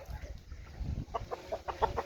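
Roosters and hens on a poultry farm clucking in short, spaced calls that grow more frequent in the second half, fairly quiet against low background rumble, with no talk.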